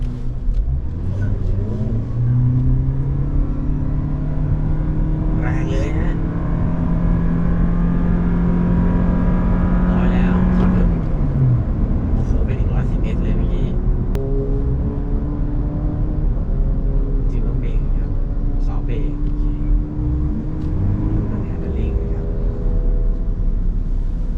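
Toyota Prius hybrid car driving on a test course, a steady loud engine and road drone with rising and falling tones as it accelerates and slows, continuous throughout.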